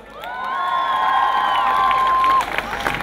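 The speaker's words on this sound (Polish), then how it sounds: "proszę o brawa!" Volleyball fans at a team presentation cheer and clap loudly, with a long sustained tonal blare riding over the crowd noise before cutting off near the end.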